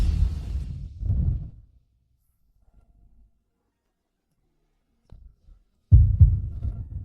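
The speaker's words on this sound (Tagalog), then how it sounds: "Ang bilis ng tibok ng puso!" A fast heartbeat sound effect throbs low and heavy, a couple of deep thumps at the start, then near silence with faint rumbles, and another strong beat near the end.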